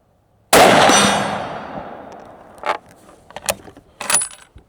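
A Winchester Model 70 rifle in .30-06 fires one loud, sharp shot at a target. It rings out in a long decaying tail, followed by a few faint clicks and clinks.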